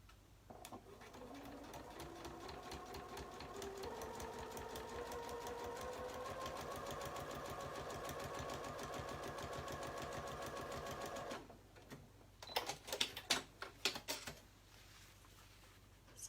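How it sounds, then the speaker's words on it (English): A sewing machine running a longer stitch sews a seam allowance to a pocket bag, a steady close whir lasting about eleven seconds, then stopping and giving way to scattered fabric handling clicks and rustles. "We are going to sew the seam allowance to the pocket bag only."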